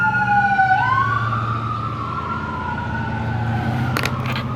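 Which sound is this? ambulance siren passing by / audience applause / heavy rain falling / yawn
ambulance siren passing by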